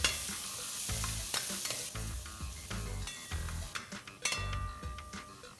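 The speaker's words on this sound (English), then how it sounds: "Let's add 1 medium-sized onion that's finely chopped. And let's saute this till it's only soft and translucent." Finely chopped onion sautés in melted ghee in a pan, a steady sizzle broken by repeated scraping stirs of a utensil against the metal, close and fairly quiet with no voices.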